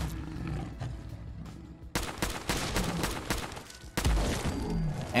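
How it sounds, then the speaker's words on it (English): Semi-automatic service rifle from a Fallout 4 weapon mod firing at a Deathclaw, several sharp shots in bursts over a low, rough background of game sound, with no talking. "let's start off with the basic version of the semi-automatic service rifle and see how it does on a Deathclaw"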